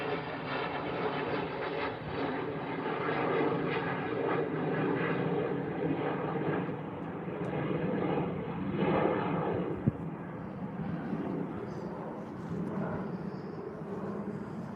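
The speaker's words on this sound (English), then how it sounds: "Yep, there's a plane because the airport is very nearby." Airplane flying over near an airport, a broad continuous roar that stays steady and fairly loud throughout, slowly fading toward the end.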